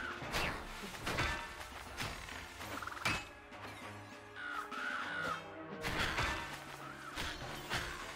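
Birds caw repeatedly amid the dense mix of the video game Have A Nice Death, harsh calls sitting over busy music, swooshes and combat impacts.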